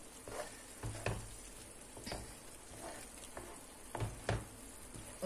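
Eggs sizzle and fry in a pan of Turkish-style chakchouka as a utensil stirs and scrapes them into the mixture, giving steady close crackling with intermittent clanks and sweeps.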